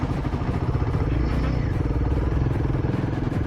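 A motorcycle engine labours in loose desert sand near Jaisalmer, Rajasthan, a close, steady throbbing drone with rapid pulsing as the bike strains to keep moving, heard alone without talk.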